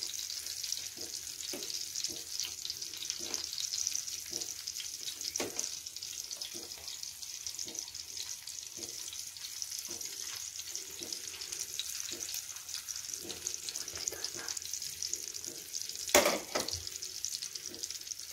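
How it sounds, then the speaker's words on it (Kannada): Adavu fish frying in a pan, a steady close sizzle running throughout with soft rhythmic scrapes and one sharper clatter near the end, no talk. "ಫ್ರೈ ಆಗಲಿ."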